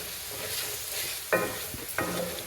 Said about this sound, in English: We add the ginger, stirring for 1 minute until fragrant.